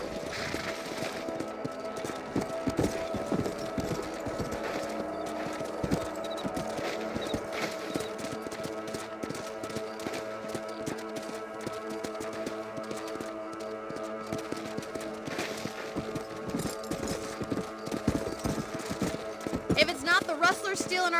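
Horses' hooves clip-clop at a steady run in the western video game Red Dead Redemption, a rapid rhythmic patter heard under game dialogue and ambient sound, moderately quiet throughout.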